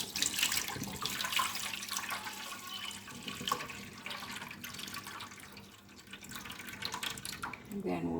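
Water from boiled cocoyam for Nigerian achicha splashes and trickles through a strainer in a home kitchen, a continuous wet rushing that ebbs and surges, with a faint voice in the background.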